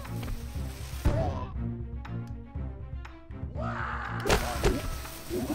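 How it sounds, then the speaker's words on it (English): Heavy thuds and booming impacts from explosions in a video game, with a big blast at the start and another swelling near the end, separated by quieter rumbling and a few sharp hits. "so many explosions"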